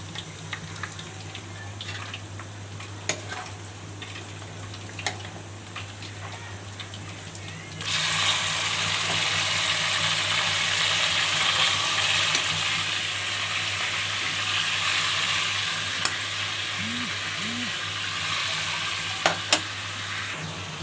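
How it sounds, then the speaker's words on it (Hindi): Mutton drops into a pan of fried garlic and ginger for white mutton karahi and starts a loud, steady sizzle, with a quiet hum and a few clinks of stirring before the meat hits the oil. "अब मैं इसमें गोश्त डाल देती हूँ।"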